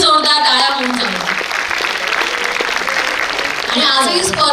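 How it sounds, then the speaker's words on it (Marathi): An audience at a state-level one-act play competition claps loudly and steadily, a full sustained round that stays even throughout, with tonal sounds or voices breaking through near the start and end. "एकदा सरांसाठी आणि संपूर्ण अटल करंडकच्या टीमसाठी जोरदार टाळ्या होऊन जाईल"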